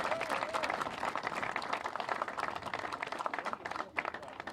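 Audience applause at a Tweed New Haven Regional Airport expansion announcement, a steady crowd clapping that holds for several seconds with some cheering mixed in, moderately distant.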